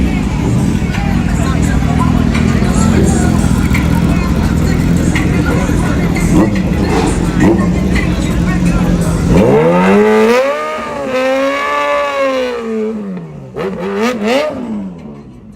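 Drag racing cars roar loudly down the strip, a dense engine blare giving way to a rising, wavering rev as one car accelerates, with crowd babble underneath.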